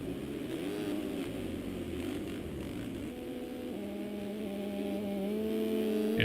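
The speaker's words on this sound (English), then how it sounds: "we hear Jacob Hubbard's two-stroke ripping over the top of the hill" A two-stroke motocross bike engine rips along in the MX Simulator racing game, a continuous buzzing drone that holds steady and then climbs in pitch as it revs harder, loud and unbroken, with no talk.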